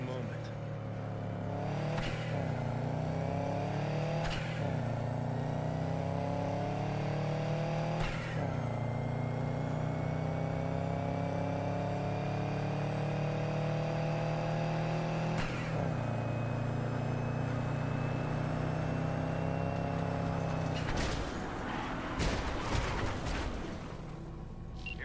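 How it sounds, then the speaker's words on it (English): A car engine runs steadily in Cyberpunk 2077, a constant low rumble with occasional revs and shifts throughout, heard under in-game dialogue and ambience. "Go ahead, kill the engine."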